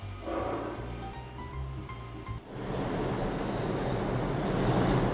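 Rumbling train in the Unavowed video game, a low rolling roar that builds from a steady drone into a louder, broadband rush over the last half, continuous and close.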